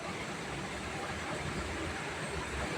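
A passenger train on the Badarpur to Guwahati line, heard from inside the carriage as a steady, dense rumble and rattle that runs on unbroken without voices.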